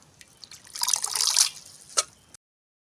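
Thankuni (Indian pennywort) leaves being washed in water, a short splashy swish and trickle swelling then fading, with a final drip-like splash before silence.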